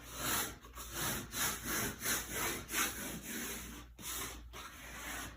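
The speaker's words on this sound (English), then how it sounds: "And then squeegee it down." A squeegee presses a vinyl wall decal flat against a wall, giving a series of close, rhythmic rubbing swipes roughly every half second, steady and moderately loud with no talking.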